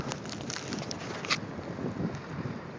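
Wind blows steadily through Chicago streets during the February 2011 blizzard, a fairly faint continuous rush with a brief gusty flutter near the middle and no voices.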